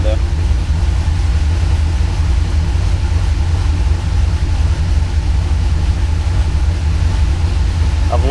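A Pontiac Trans-Am engine idles steadily with a low, even rumble close by, smooth and continuous, with someone talking faintly over it.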